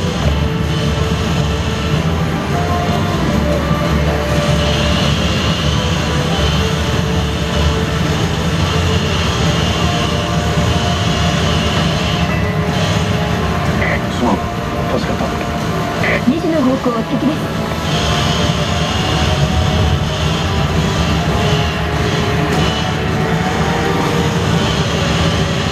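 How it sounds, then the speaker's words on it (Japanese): Unmanned bomber aircraft launching in the arcade shooter Time Crisis 4: a loud, steady roaring rumble runs the full length, with game voices and effects layered over it. "無人爆撃機の発信を目視で確認。"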